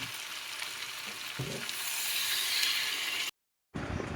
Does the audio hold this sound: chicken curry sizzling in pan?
yes